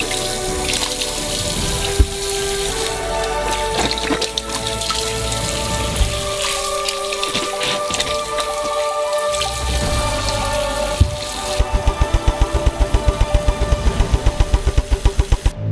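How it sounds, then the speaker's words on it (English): Water runs steadily into a sink to soak and wash a batch of oranges, a continuous splashing fill with music over it, then a rapid regular ticking pattern toward the end. "Fill it up with water."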